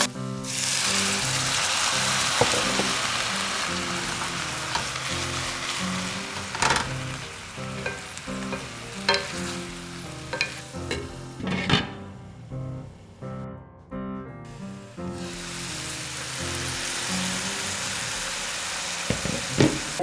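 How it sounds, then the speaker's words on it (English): Artichoke pasta in a pan deglazed with white wine, a loud continuous sizzle with repeated stirring scrapes and clinks, a brief hiss-filled dip midway before the sizzling resumes strongly. "Sfumiamo con un pochettino di vino bianco, se ce l'avete ovviamente, se no ci metteteci un pochettino d'acqua"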